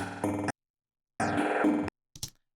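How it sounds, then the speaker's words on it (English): Glitchy vocal loop from a sample library: two choppy, stuttering bursts of processed sound separated by silence, followed by a brief clicky fragment, all fairly quiet. "this loop is just a glitchy loop that I picked from a library"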